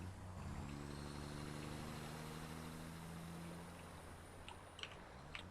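A truck in the video game Satisfactory rumbles past with a droning engine and a gradual pitch shift, fading over a few seconds and leaving a quieter low hum.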